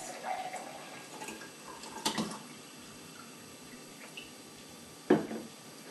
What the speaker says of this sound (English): I'm going to pour my glass